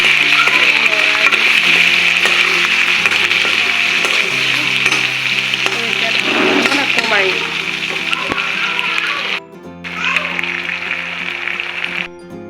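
Onions sizzling and frying in rendered pork fat, a steady loud crackle with occasional stirring, briefly dropping then resuming near the end; no one speaks.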